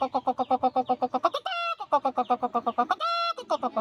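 A voice imitates a hen's pained cackling after laying an egg, with rapid rhythmic clucks broken by two long drawn-out squawks, loud and close, with no other sound.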